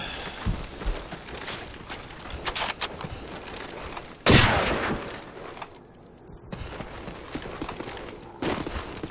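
Gunfire in the video game Call of Duty 4 comes as scattered bursts of sharp shots, with one loud, close blast in the middle, a short lull, then more shots.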